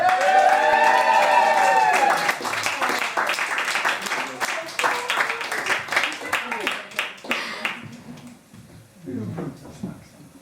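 A hotel comedy-night audience cheers, whoops and claps as a comedian walks on, loud at first and then settling into scattered, fading applause.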